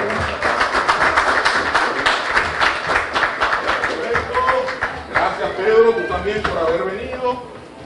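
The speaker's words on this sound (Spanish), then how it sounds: "Un aplauso para Beatriz." An audience at a stand-up comedy show applauds a departing contestant with steady, dense clapping that runs throughout, mixed with voices and chatter that grow more prominent toward the end.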